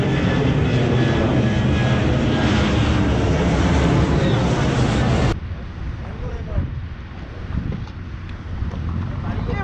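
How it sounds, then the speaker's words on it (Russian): An airplane takes off from Malé airport in the Maldives: a loud, close jet roar with wind buffeting the microphone, cutting abruptly midway to a quieter, more distant rumble. "И вот так самолеты взлетают с аэропорта Мале"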